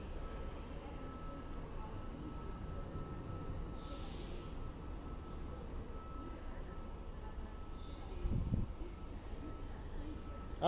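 A train moving slowly through Doncaster station on the East Coast Main Line gives a steady low rumble and faint wheel noise, with a brief louder clank near the end.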